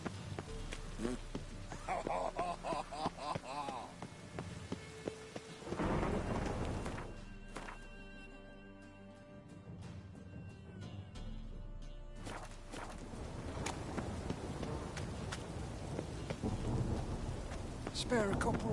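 A thunderstorm in The Witcher 3 brings steady rain pattering on surfaces, broken by deep rumbling thunder and a sharp crack, with insects and a faint voice in the background.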